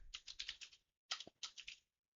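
Quick bursts of typing on a computer keyboard, two clusters of rapid close keystrokes separated by a brief pause, crisp and near with a quiet room behind.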